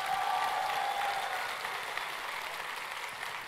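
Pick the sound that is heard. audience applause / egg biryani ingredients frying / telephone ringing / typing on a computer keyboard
audience applause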